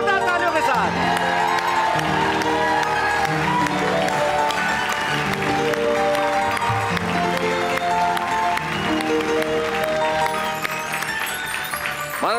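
A studio audience applauds loudly to welcome a guest onto a Hindi comedy and poetry show, the clapping running steadily for about twelve seconds beneath bright music.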